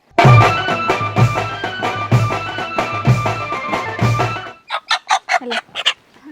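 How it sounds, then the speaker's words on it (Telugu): Native country chickens in a village cluck loudly and repeatedly, ending in a quick string of short, sharp clucks. "కోళ్ళు అడతాయి"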